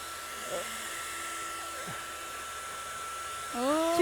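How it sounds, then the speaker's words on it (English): A handheld blow dryer blows a steady, loud rush of air upward to lift a kite, running continuously throughout, with brief voices near the start and end. "use our handy dandy blow dryer, and we're going to see if we can lift it up"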